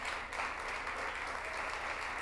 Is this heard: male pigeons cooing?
no